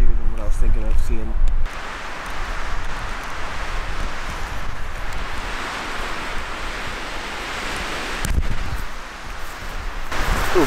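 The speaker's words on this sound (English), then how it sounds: "It's just a little windy." Wind gusts across open hunting country during a mule deer hunt, a steady broad rush lasting several seconds with a brief lull near the end and a short burst of voice at the start.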